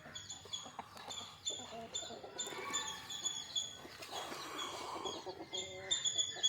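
Free-roaming country chickens cluck and murmur in a yard, a scattered run of soft calls at moderate distance over faint background chatter.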